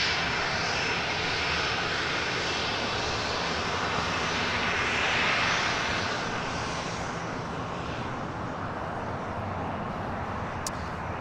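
An Airbus A350 jet at LAX makes a loud, steady engine roar that swells slightly near the middle and then eases, with no talk over it.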